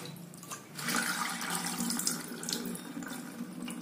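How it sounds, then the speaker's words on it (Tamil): Moong dal and chana dal are washed and kneaded by hand under running tap water in a kitchen sink, a close, steady splashing stream with no talking. "நல்லா பிசைஞ்சு கழுவிடுங்க."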